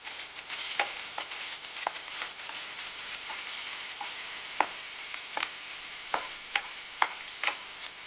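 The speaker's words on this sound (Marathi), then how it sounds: "तेल गरम झालं की आपण टाकणार आहोत त्याच्यात थोडा जीरा, कांदे टाकणार आहोत." Cumin seeds and onions go into hot oil for a mushroom masala. A soft, steady sizzle runs throughout, broken by scattered small ticks and crackles, close but quiet, with no voices.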